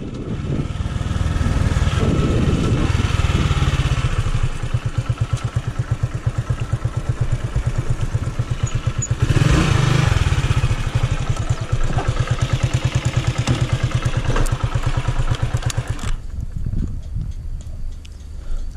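A small motorcycle engine idles and revs loudly nearby for a long stretch, a rapid rattling putter with swells in pitch, then drops off suddenly near the end.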